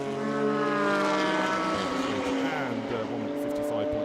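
A Toyota Supra GT race car passes on the start-finish straight at Fuji during qualifying, a loud, sustained engine drone with a shifting pitch, while a commentator talks over it.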